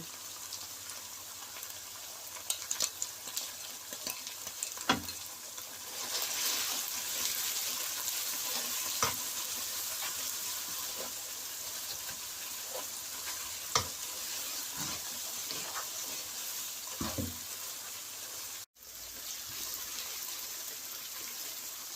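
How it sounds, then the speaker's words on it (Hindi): Chicken and spices sizzle and fry in a pan for a chicken and potato curry, a steady close hiss broken by occasional scraping stirs, with a brief dropout near the end. "मसाले डाल के भी हमने 3-4 मिनट तक भुनाई करनी है।"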